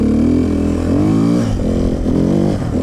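A KTM 450 Six Days dirt bike engine roars loud and close, the pitch rising and falling with throttle changes as it climbs a hill.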